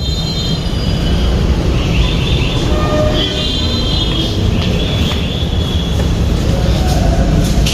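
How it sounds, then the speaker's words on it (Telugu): An underground metro train in Chennai rumbles loudly and steadily throughout, a dense roar of wheels on rail with faint high squeals rising over the din, no talk. "చెన్నైలో అండర్ గ్రౌండ్లో మెట్రో ట్రైన్."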